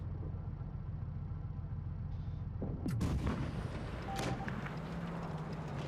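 A tank cannon fires in World of Tanks Blitz, a Tier 8 Soviet heavy tank battle, giving one sharp, deep boom with a trailing echo over a low engine drone, then a second, lighter blast shortly after.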